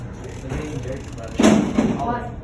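A door swings shut with a dull slam and thud partway through, close by, over a steady background hum; the door is not closing all the way.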